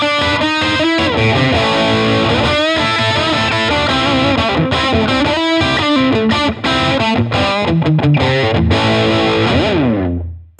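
A 335-style electric guitar on its bridge pickup plays loud, saturated chords and riffs through the overdrive channel of a Blackstar Studio 10 6L6 amp, with gain at midpoint. The final chord rings out and fades.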